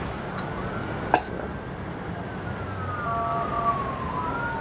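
A CARE company ambulance siren wails faintly in the distance, its tone rising and falling steadily under traffic noise, with a brief knock near the start.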